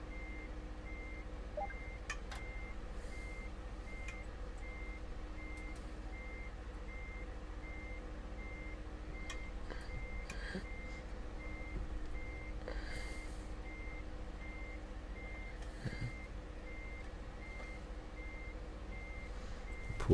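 A truck's reversing alarm in American Truck Simulator beeps steadily and evenly throughout, quiet and regular over a low idling engine hum, with a few faint clicks and knocks.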